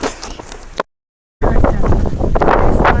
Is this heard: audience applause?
no